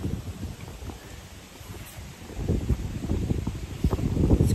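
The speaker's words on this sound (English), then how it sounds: "Quite windy." Gusty wind buffets the microphone outdoors, a low rumbling roar that grows stronger and rougher toward the end, with no one speaking.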